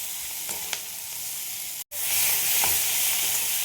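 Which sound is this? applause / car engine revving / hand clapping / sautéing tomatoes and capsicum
sautéing tomatoes and capsicum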